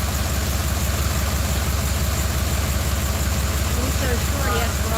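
An engine idles steadily after being started, its low rhythmic pulsing even and close throughout while it is checked for exhaust leaks, with people talking over it.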